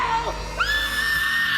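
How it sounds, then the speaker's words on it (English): A cartoon character screams in a Sonic the Hedgehog animated series. The voice wavers, then breaks into one long, loud, high-pitched shriek that holds steady to the end. "But I do love the sound of his screams."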